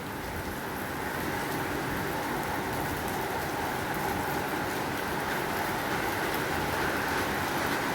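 Steady rain pours down, producing a dense, even hiss of drops striking surfaces that continues without a break, with no voices present.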